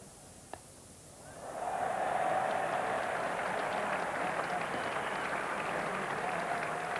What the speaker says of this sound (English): I'm not sure if David Gower does deserve the applause he's getting